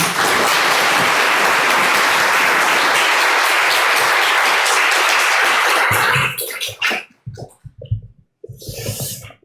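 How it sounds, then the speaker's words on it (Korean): A church congregation gives a loud, dense round of applause at a Sunday service, welcoming a pastor to the pulpit; it holds steady for about six seconds, then breaks into scattered, fading claps and brief rustling. "큰 박수로 맞이하도록 하겠습니다"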